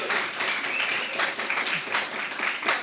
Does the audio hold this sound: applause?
yes